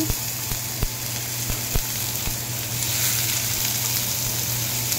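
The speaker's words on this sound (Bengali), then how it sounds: "ওই ডিম ভাজার তেলেই দিয়ে দিচ্ছি অল্প পেঁয়াজ কুচি" Steady oil sizzle of chopped onion frying in a pan, with a few light clicks and scrapes over the continuous crackle.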